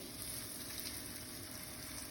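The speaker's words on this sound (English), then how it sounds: "Again, you can hear that sizzle." A chicken parmigiana cutlet fries in a pan, giving a steady, dense sizzle and hiss that holds evenly throughout without pause, close and fairly quiet with no voices over it.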